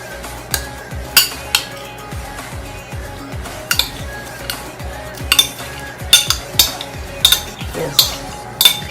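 A spoon stirs a thickening mixture in a pot, with repeated scraping and clinking strokes against the sides at an uneven rhythm, close and fairly loud, no one talking.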